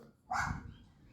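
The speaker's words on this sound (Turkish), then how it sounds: "Arkadaşlar bizim hayatımızda boyunca köpek hiçbir zaman susmuyor." One dog bark rings out after a brief quiet moment, then trails off into a low rumbling background.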